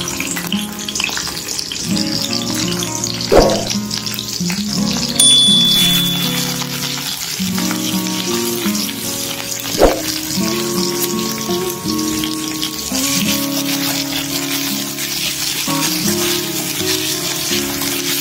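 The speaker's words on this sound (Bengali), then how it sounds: "পেঁয়াজটাকে লাল লাল করে ভেজে নেব।" Onions frying in hot oil in a wok for a potol chicken dish give a steady, close sizzle throughout, with a couple of sharper spatters and music playing underneath.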